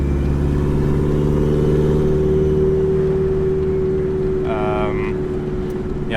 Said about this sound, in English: the turbo sounds a lot more responsive